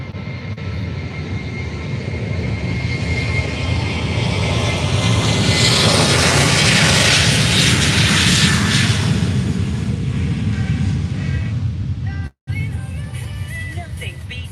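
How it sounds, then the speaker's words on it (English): A Jet2 airliner takes off at Faro airport, a steady loud roar of jet engines that swells and peaks near the middle, then eases while staying strong, with a brief cut near the end. "Jet2 taking off right now."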